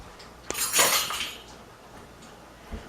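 A utensil works softened butter into brown and white sugar in a bowl for banana bread, giving a brief scraping swish and a few light clinks against the bowl, close up and with no talk.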